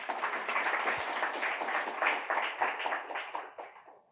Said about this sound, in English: Let's give a warm applause to Anna and Vladislav for their talk